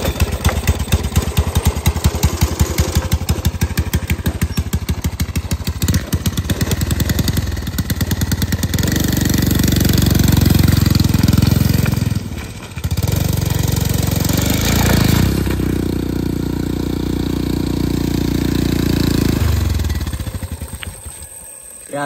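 Small go-kart engine with a loose, worn chain chugs and rattles steadily, close and loud, with a heavier low rumble building midway as it revs, then dropping briefly before running on.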